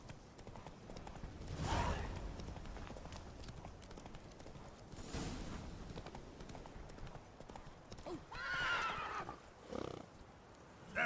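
Roach, a horse in The Witcher video game, trots with steady clip-clop hoofbeats and gives a couple of whinnies, one sharp neigh early and a longer one near the end, over faint game ambience.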